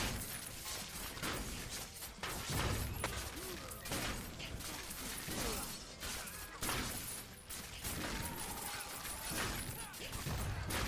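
Bomb traps exploding in Dungeon Warfare 3 set off a dense, continuous barrage of bursts and crashes with mechanical clatter throughout, loud game effects with a voice over them.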